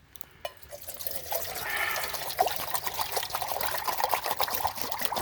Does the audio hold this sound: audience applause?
no